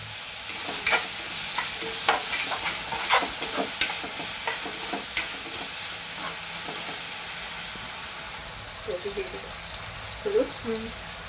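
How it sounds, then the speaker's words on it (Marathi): Vegetables for Indo-Chinese honey chilli potato and chilli paneer are stir-fried on high flame, with a constant sizzle and repeated sharp scraping and tossing strokes of the spatula, then quieter frying with a few brief sounds near the end. "हाय फ्लेमवरच आपल्याला हे भाज्या मिक्स करून घ्यायच्या आहेत."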